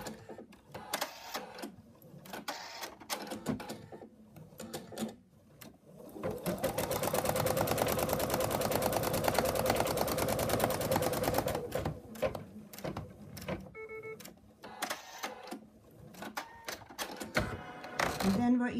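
An embroidery machine stitches an in-the-hoop wallet, its needle pounding in a fast, steady mechanical chatter for several seconds, with shorter stitching bursts before and after, and a person talking in between.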